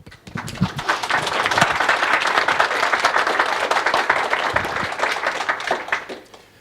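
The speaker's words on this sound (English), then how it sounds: "So please give them a huge applause." Audience applause opening a session at the DroidKaigi 2018 Android developer conference, clapping swelling quickly into a dense, steady roar of many hands, holding strong before tapering off near the end.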